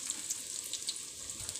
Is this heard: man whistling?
no